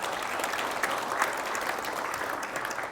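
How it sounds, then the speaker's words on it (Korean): An audience applauds a politician, a dense, steady burst of clapping that holds evenly throughout at moderate distance. "우리 최문순 지사님한테 박수를 한번 부탁드립니다"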